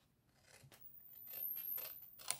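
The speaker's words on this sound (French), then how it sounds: "donc là, je vais couper." Cardboard is cut along a drawn line while finishing a board-game box, with soft, close, rhythmic snips building over a couple of seconds and ending in a sharper cut.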